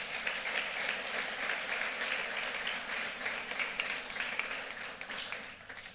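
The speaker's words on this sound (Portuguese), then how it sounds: "Dê um aplauso a Jesus." A church congregation claps during a worship service, a sustained wash of many hands that holds steady and slowly eases toward the end.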